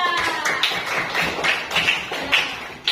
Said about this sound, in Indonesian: Tepuk tangan untuk Mas Reza.